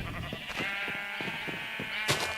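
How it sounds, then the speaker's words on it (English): Many sheep on a noisy Minecraft farm keep up a continuous chorus of overlapping bleats, with quick repeated calls and a louder burst near the end, and nobody talking. "the noisy sheep farm."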